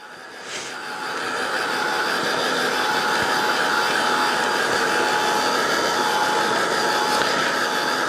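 A hair dryer or heat tool blows steadily over wet paint on a round vintage-style ornament, a continuous close whooshing whir that holds level for the whole stretch with no talking.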